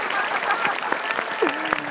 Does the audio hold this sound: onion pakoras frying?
no